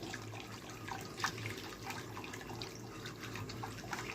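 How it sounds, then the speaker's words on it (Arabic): Milk poured from a cup into a pot, a faint, continuous liquid splashing and trickle in a quiet kitchen. "ناخد الكوبايه اللبن"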